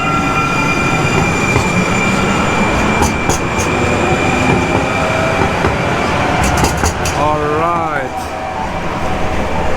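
A light rail train pulls away on a street in Tempe, Arizona, giving a loud, continuous rumble and rolling wheel noise close by, with a brief wavering squeal near the end and a voice talking over the din.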